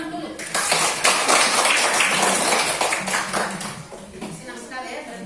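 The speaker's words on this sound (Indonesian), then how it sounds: "Tepuk tangan dulu." Students in a classroom clapping their hands together after reading aloud, a lively burst of rhythmic clapping close by that starts abruptly and fades somewhat toward the end, with some voices mixed in.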